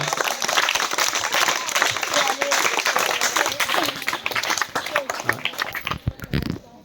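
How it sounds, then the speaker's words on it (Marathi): Students and staff at a school gift ceremony burst into loud, dense applause that runs for several seconds with voices talking over it, thinning out and stopping near the end. "जोरदार टाळ्या वाजूया"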